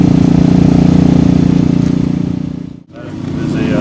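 A Suzuki Hayabusa motorcycle engine runs with a loud, steady buzzing drone at a Maxton Mile speed event, briefly cutting out near the end before picking back up.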